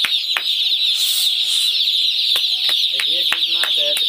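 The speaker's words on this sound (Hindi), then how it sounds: "ऑलरेडी बच्चे निकल रहे हैं छोटे छोटे चूजे।" Newly hatched chicks on a poultry farm chirp steadily in a dense, continuous high peeping chorus, with brief sharper calls and clucks cutting through near the end.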